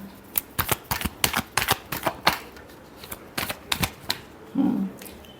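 Tarot cards are shuffled by hand up close in a quick run of crisp riffling flicks and slaps, irregular and bursty, that ends with a short soft thud.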